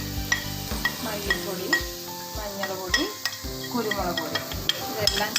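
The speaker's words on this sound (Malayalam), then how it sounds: "ഇതെല്ലാം ചേർത്ത് നമുക്ക് നന്നായിട്ടൊന്ന് ഇളക്കിയെടുക്കാം." Chili, coriander, turmeric and pepper powders are stirred in a pan for paneer masala. A soft sizzle runs under repeated scrapes and sharp metallic clinks from the spoon against the pan.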